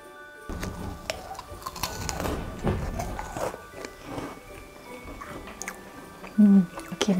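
Close crunching and chewing bites of crisp meringue from a pavlova with a chewy centre, repeated irregularly, with soft mouth noises and no speech.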